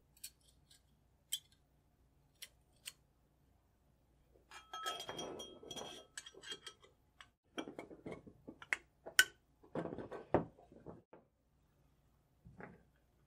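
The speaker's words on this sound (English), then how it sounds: "Then I'll add the floor plate and the spring and follower." Metal parts of a Kar 98 rifle, the floor plate, magazine spring and follower, being fitted together, giving scattered light clicks and clinks with a denser run of rattling metal handling in the middle, close and fairly quiet.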